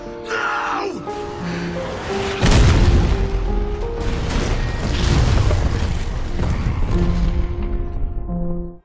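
A truck slams into a fuel tanker and erupts in a fiery explosion in the Gears of War video game, a loud heavy boom that rumbles on under a swelling orchestral score with sustained tones throughout.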